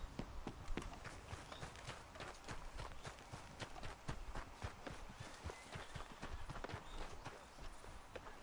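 Horse hooves clip-clop in a steady walking rhythm in a PS4 video game, a repeated, evenly spaced series of quiet hoof strikes that continues throughout.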